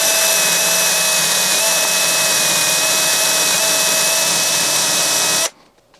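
A small rotary tool cleaning corrosion off the motor shaft of a Beko condenser tumble dryer gives a loud, steady high-pitched whine with a constant tone, running for about five seconds before cutting off abruptly.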